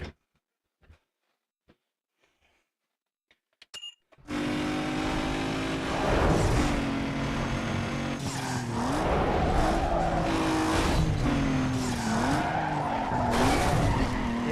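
A car in a racing video game with tires squealing and skidding over a loud revving engine, pitch sweeping up and down through repeated slides after a few seconds of near silence with faint clicks.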